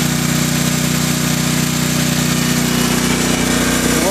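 A Generac 7000EXL tri-fuel portable generator engine idles steadily, a loud, even mid-pitched drone with a constant hum and no change in pace, heard alone with no voices.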